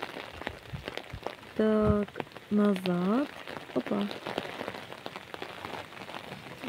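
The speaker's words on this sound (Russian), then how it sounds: "видите, дождик. Я стою с зонтиком. Дождик капает." Rain falls on an umbrella and the ground outdoors in a steady, close patter that runs throughout, while a person speaks briefly over it.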